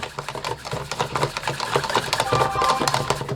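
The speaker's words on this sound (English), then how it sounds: "this is a secret technique of mine for whisking" A whisk rolled quickly back and forth between the palms churns gravy, giving a fast, busy rattling and clicking that stays close and fairly loud throughout the short stretch, with no talk.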